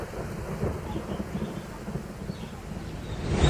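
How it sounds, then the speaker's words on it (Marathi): Heavy rain pours steadily in Kolhapur, a dense, continuous hiss with a low rumble beneath it that swells toward the end. "आज सकाळपासून सुद्धा पावसाची रिमझिम सुरू आहे"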